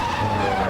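A race car skidding in the Automobilista F1 2019 racing game at the Circuit of the Americas in Austin, a brief steady tire squeal over engine drone, loud and continuous throughout.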